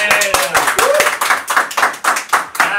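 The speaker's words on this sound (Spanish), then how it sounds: "Bueno, Christopher, un aplauso, por favor." Applause on a Spanish-language talk show, a small group clapping in quick uneven bursts close to the microphone, with voices mixed in.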